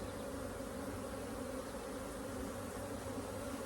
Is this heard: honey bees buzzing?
yes